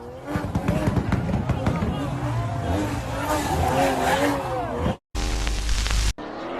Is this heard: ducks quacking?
no